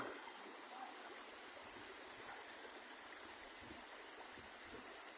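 River water flows steadily along an Indonesian river (a tributary near Cimuntur draining toward the Pangandaran sea), a continuous broadband rushing hiss with no talk over it.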